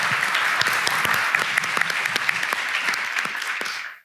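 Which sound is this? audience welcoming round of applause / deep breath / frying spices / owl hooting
audience welcoming round of applause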